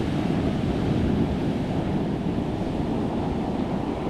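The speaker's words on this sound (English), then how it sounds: "them waves are starting way out there" Ocean waves break on a beach in a continuous roaring wash of surf with wind buffeting the microphone, loud and steady with no voices.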